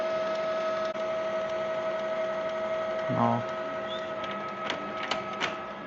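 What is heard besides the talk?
Canon PIXMA G2020 printer running an ink flush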